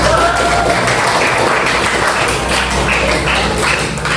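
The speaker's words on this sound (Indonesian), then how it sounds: "Kita kasih tepuk tangan ya." Classroom applause for a student, a dense, steady wash of many hands clapping together at constant loudness throughout, filling the room without pause.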